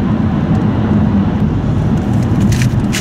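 A car drives along the parkway near Bloomfield, and from inside the cabin there is a constant loud road and engine rumble with no talking.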